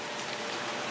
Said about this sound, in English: It's all bright outside, it's just sitting here raining.